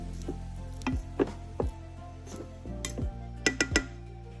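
Cooked fluffy white rice stirred in a pot for a curry, giving scattered clinks and scrapes of a utensil against the pot, several sharp taps spread unevenly, close by with no talk.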